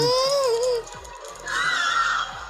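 A creature in the video game Antarctica 88 lets out shrill, wavering screams, loud and close, in two bursts separated by a short lull over a low, pulsing game soundscape.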